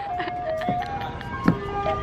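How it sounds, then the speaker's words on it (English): Ice cream truck driving through a residential neighborhood, its tinny jingle melody playing steadily at moderate distance, with a few knocks and movement noises nearby. "You can probably hear it now, but we have an ice cream truck that comes through our neighborhood."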